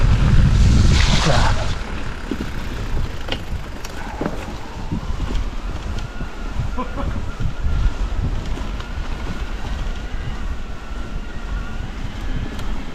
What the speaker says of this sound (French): Là, on traverse le ruisseau.